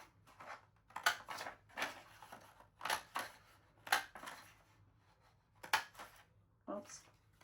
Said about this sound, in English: take my bits of paper and punch a bunch of hearts out